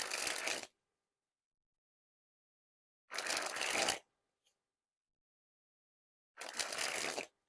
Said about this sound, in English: First, we'll spring the deck.